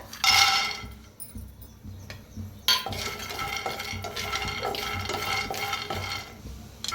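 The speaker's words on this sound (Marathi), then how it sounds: "आता आपण शेंगदाणे भाजून घेऊया।" Peanuts roast in a kadhai on a gas stove, stirred with a metal spoon that scrapes and clinks against the pan in bursts, with brief pauses between strokes.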